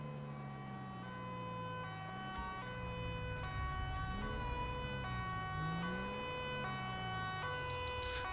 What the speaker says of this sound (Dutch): Ik hoor sirenes, dat kan nooit een goed teken zijn.